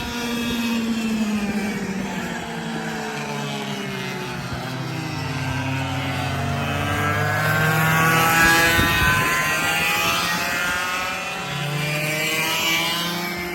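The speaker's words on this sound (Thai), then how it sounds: "คือเสียงสองจังหวะเป็นอย่างที่แบบโคตรเข้ากันกับโกคาร์ทเลย" A go-kart's two-stroke engine runs at a practice session before a race, a buzzing, rising and falling whine that sweeps up and down in pitch as it revs, loud and continuous with no talking.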